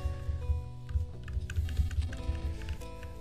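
Quieter keystrokes on a little computer keyboard, soft clicks scattered under a steady background of tonal music, fairly near and continuous.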